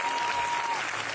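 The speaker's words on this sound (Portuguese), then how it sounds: "Uma salva de palmas ao Cordeiro." Congregation applauding in praise of the Lamb during a church worship service, steady dense clapping from a crowd filling the space throughout, with no voices rising above it.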